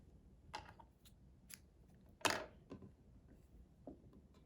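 Scissors snip through crochet yarn at the end of a corner-to-corner piece, a few short, crisp cuts spread out at intervals, one sharper and louder than the rest, close and fairly quiet.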